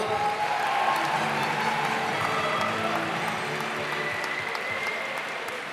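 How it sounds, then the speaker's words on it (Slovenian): Sustained applause from an audience at Centrovizija 2019, steady and fairly loud throughout, with faint voices mixed into the crowd noise. "Še en aplavz"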